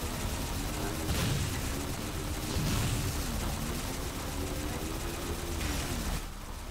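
Explosions and gunfire from the video game Halo 4: Spartan Ops, a dense rumbling barrage with a few heavier booms, heard at a steady loud level while a voice runs underneath.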